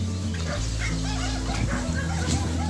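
A dog barks a few times outdoors in a rural rice-field setting, the barks sitting over a steady low background hum with no talk.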